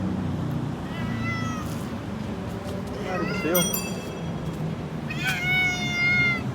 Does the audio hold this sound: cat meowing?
yes